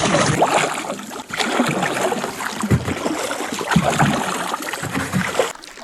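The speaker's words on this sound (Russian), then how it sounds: "Красота в такую погоду грести на лодке по озеру" Oars working a rowboat on a lake in rainy weather, a steady wash of splashing and trickling water with rhythmic surges from each stroke, close and fairly loud without speech.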